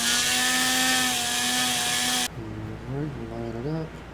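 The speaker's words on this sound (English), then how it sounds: "but let's get a sanding drum." A sanding drum grinds into foam while building a prop stun gun, first as a loud steady whine with a strong motor hum, then cutting off abruptly as a voice begins speaking over faint workshop noise.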